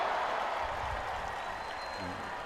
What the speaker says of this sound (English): that looks like that's big roar of the crowd across the way